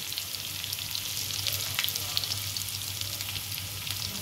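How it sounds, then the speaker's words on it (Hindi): Food frying in oil in a pan for a home dal chawal dish, giving a steady close sizzle with faint crackles throughout and no talk. "तो देखिए फ्रेंड अच्छी तरह से हम इसको फ्राई करेंगे"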